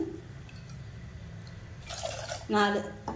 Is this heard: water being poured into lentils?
yes